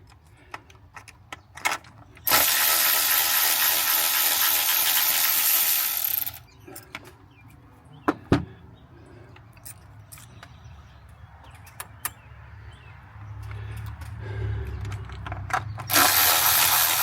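Ignition coil bolts come undone on a Ford F truck, with sharp ratcheting tool bursts, scattered metallic clicks and clinks, and quieter pauses between the bursts of wrenching.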